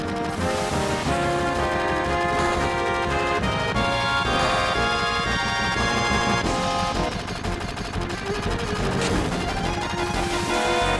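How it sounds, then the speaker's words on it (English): Gunfire in the video game Final Fantasy VII, with rapid repeated shots mixed into a loud, dense layer of game music and effects that runs steadily throughout. "Gunfire."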